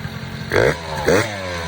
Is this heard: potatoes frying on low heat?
no